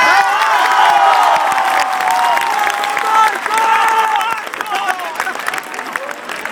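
An audience applauds and cheers for Marco: sustained clapping from a crowd with shouting voices and whoops over it, loud at first and thinning toward the end.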